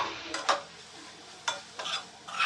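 Onion with turmeric, red chilli powder, coriander-cumin powder and garam masala being stirred in a pan for tawa prawns, giving soft sizzling under a few scraping stirs of a spoon against the metal, close by.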